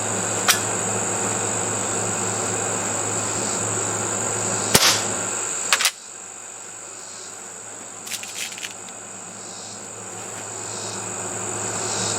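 A QB78 CO2 air rifle fires a shot, a single sharp crack near the middle followed by a brief clatter, over a loud steady insect-like whine that drops off right after, with a few faint clicks later.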